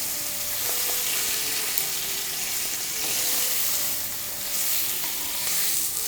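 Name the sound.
steak shallow-frying in hot oil in a tilted frying pan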